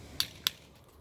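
Two sharp taps seating a glued part of a pedestrian gate into place, quick and distinct, about a quarter second apart, close and brief with no talk.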